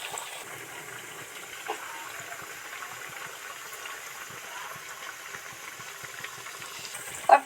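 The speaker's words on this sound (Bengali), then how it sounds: "কেমন টুকবুক টুকবুক করে ফুটছে দেখুন বন্ধুরা, আর এর ভিতর ডিপ ফ্রাই হয়ে আস্তে আস্তে আস্তে আস্তে ভাজা হচ্ছে" Soya koftas deep frying in bubbling oil, a quiet and continuous soft bubbling and crackling with scattered small ticks and one sharper pop near the end.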